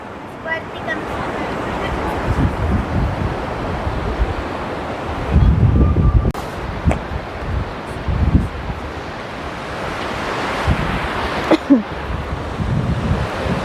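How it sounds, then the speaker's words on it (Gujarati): The Ganges at Devprayag rushes past with surging, leaping waves, a steady roar of churning water and wind buffeting the microphone, while people talk intermittently over it. "નજીકથી આપણે જોઈએ છીએ કે મોજા મારતી ઉછળતી કૂદતી ગંગા નદી આગળ વધી રહી છે"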